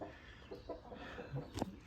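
Soft, scattered clucks from chickens close by, a few short calls over a low background hiss, no talking.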